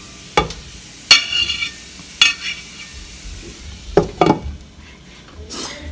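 Vegetable rice being smushed and stirred in a pot: a spoon strikes and scrapes the metal in several separate sharp knocks spread across the clip, with quiet pauses and a faint sizzle between them.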